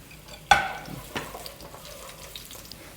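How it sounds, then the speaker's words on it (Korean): Garlic fries in oil in a preheated iron pan, with a sharp hiss as it hits the fat followed by a softer, continuous sizzle and a few light stirring clicks, close by and without speech. "이렇게 지글지글 맛있게 마늘이 익어가고 있습니다"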